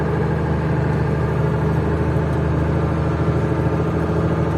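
A tractor engine drones in a loud, steady, low rumble, pulling a car with a broken leaf spring by a chain, and holds its pitch throughout with no voices.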